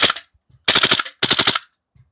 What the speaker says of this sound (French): Et si on veut passer au mode rafale